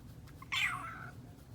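A house cat gives a single short meow, clear and close, rising then falling over about half a second against a quiet room.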